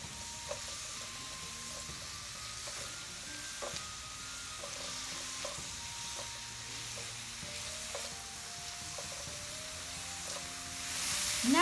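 Mushrooms and onions sizzle steadily in a hot pan, a constant close frying hiss with faint stirring scrapes and clicks, no voices.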